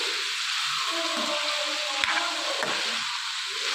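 Ivy gourd with turmeric fries in a pan and is stirred, giving a constant close, hissing sizzle with a couple of sharp spatula scrapes midway.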